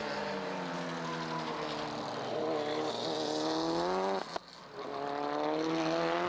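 A race car at a GRIDLIFE TrackBattle event at Chicagoland screams as it accelerates, revs climbing fast with a sharp gear shift cut before the engine wails upward again, loud and sustained.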